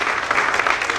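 Steady, dense applause from an audience at a Hindi-language family gathering, many hands clapping evenly and fairly loud for the full second, with no voices rising above it.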